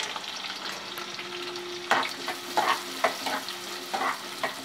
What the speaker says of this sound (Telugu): ఇప్పుడు నూనె హీట్ ఎక్కింది, ఉల్లిపాయలు వేసుకుంటున్నాను. అలాగే పచ్చిమిర్చి కూడా వేసుకుంటున్నాను.